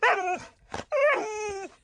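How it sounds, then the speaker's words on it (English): A pet dog vocalizes on command with two drawn-out, whining yowls split by a short breathy huff. The sounds are close and clear against a quiet background. "Speak again, Pebbles."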